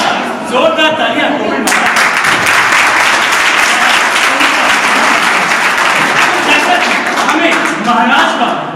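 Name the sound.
loud applause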